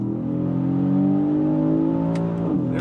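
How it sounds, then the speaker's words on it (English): A 2026 Aston Martin DBX S engine droning steadily from inside the cabin as it pulls through the gears, its pitch shifting at a downshift with a brief blip near the end. "The downshift is prompt."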